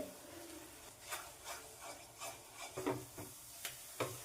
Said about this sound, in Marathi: सतत हलवून या मिश्रणाचा आपल्याला मोदक करण्यासाठी घट्ट गोळा तयार करायचा आहे